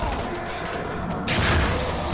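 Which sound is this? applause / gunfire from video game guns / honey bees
gunfire from video game guns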